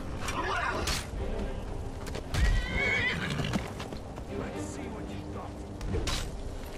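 A horse in the game Skyrim whinnies loudly, with hoof clip-clops under constant game ambience and a voice talking over it.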